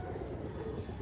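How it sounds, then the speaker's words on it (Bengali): A pair of Cobra Teddy pigeons coo softly in close range, low murmuring calls over steady background noise, with no speech. "একজোড়া কোবরা টেডি কবুতর"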